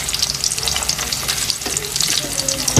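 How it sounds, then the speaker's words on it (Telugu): Onions hit hot oil for egg Maggi noodles, a close, loud crackling sizzle with stirring scrapes and a sharp clatter of a utensil at the very end. "నూనె అయితే బాగా అయితే కాగిపోయింది. ఎర్రగడ్డలు అయితే వేస్తున్నాం."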